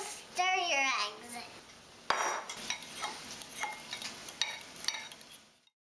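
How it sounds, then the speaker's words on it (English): Eggs are stirred in a bowl for cookie dough, with quick, uneven clinks and scrapes of a utensil against the bowl. Someone speaks over the start and there is brief talk later. "Dada, I'm gonna stir your eggs."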